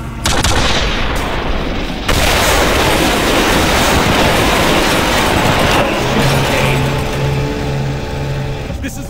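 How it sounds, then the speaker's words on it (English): Loud cannon blasts and explosive booms from the Quake 4 video game, dense rumbling gunfire-like bursts filling the scene with a sharp cut near two seconds and a droning tone later on. "Kane, hop in the cannon and see if you can't blow open the door to the access corridor."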